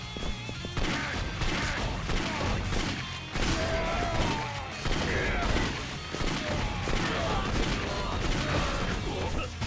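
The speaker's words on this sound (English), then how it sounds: "So, shotgun time." Repeated shotgun blasts in the Yakuza 5 video game, loud sharp bursts every second or so with heavy impacts and crashes between them during a street fight.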